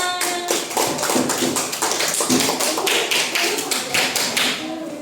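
A small group claps together in a dense, lively burst of applause, close by and steady throughout with no talking.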